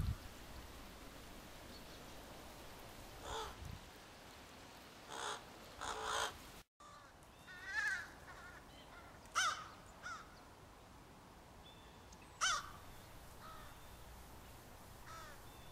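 A group of crows caws in the open. Scattered harsh calls come at irregular intervals, some near and some farther off, over a steady background hiss like rain or running water.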